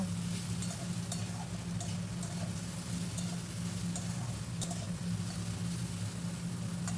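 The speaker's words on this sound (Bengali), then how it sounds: "নুন আর হলুদটা খুব ভালোভাবে নাড়াচাড়া করে উচ্ছে আলুর সঙ্গে" Bitter gourd and potato pieces being stirred with salt and turmeric in a pan, giving a steady soft sizzle with light scraping and stirring clicks throughout, close and moderately quiet, no talking.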